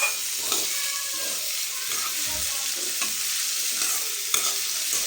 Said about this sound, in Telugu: ఇలా మొత్తం క్యారెట్ వేసేసుకొని ఒకసారి కలిపేసుకుందాం.